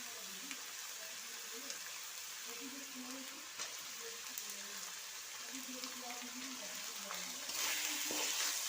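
Spice paste frying in a pan as tomatoes go in, with an even close sizzle and stirring scrapes throughout and a faint low murmur beneath, the hiss swelling near the end.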